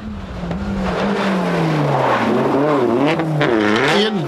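Philip White Tires Toyota rally car flying through a stage of the 1996 Circuit of Ireland Rally, a loud, close engine held at high revs, its pitch sliding down then swooping up and down through gear changes.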